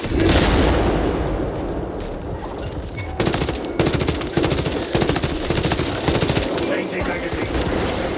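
In Warhammer 40,000: Space Marine 2, a krak grenade blast opens a loud, dense battle, followed by rapid bursts of gunfire and further blasts, with combat voice callouts mixed in.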